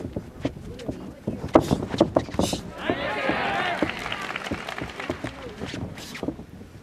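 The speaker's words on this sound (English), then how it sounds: "Japanese crowd getting into it here, Dre." Japanese crowd at the Naoya Inoue vs Nonito Donaire rematch boxing bout, swelling into a loud sustained roar and cheer from around three seconds on, beneath continuous fast commentary voices.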